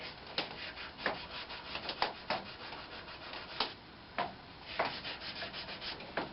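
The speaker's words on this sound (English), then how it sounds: "I'm going to finish sanding this up" Hand sanding of a maple turned box with 400-grit paper, a soft rubbing hiss broken by repeated brighter strokes at an irregular rhythm, close and fairly quiet with no talking.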